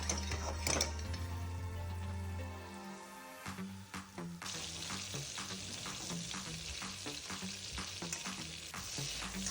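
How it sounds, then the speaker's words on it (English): Butter melting in a pan for a cheese and onion filling, starting with a steady tone and then turning into a soft, continuous sizzle with scattered crackles and pops. "So I started by melting some butter in a pan."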